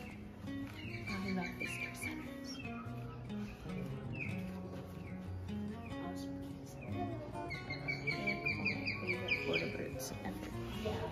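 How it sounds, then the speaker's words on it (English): Birds outside a visitor center near Cocoa Beach, Florida chirp and tweet in bursts over a quiet background, with brief quacking-like calls mixed among the songbird notes. "Those are actual birds outside."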